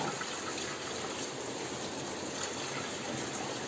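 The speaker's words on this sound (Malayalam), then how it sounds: "ഉരുളക്കിഴങ്ങ് പുഴുങ്ങാൻ പാകത്തിന് നമുക്ക് ഇതിലോട്ട് വെള്ളം ഒഴിച്ചു കൊടുക്കാം" Water pours steadily into a pressure cooker holding potatoes for boiling, a continuous soft gush at low volume with no speech.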